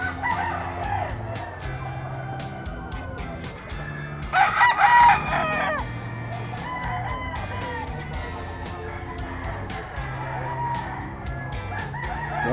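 Fighting roosters in a coop crow and cluck nearby, with one loud full crow in the middle and softer clucking around it, while other faint bird calls continue.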